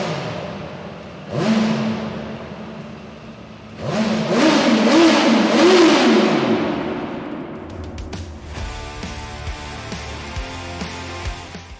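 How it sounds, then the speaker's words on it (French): A Benda LFC 700 motorcycle's four-cylinder engine is started and blipped with two rising revs, then held in a longer throttle run, fairly close, before settling to a steady idle as other noises start up. "on va écouter quand même son 4 cylindres"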